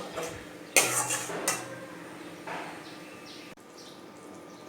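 Chicken curry being stirred in a pot just after water is added: a few sharp metal spoon clanks against the pot, then softer scraping and sloshing stirs at moderate closeness, with no talking.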